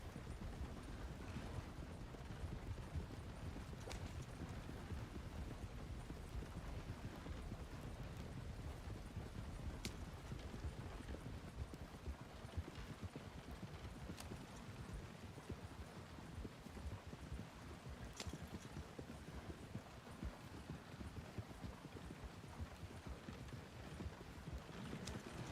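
Steady clip-clop of horse hooves pulling a wagon in a Wild West video game, with a continuous rumbling wagon roll under it and a few faint clicks, no talking.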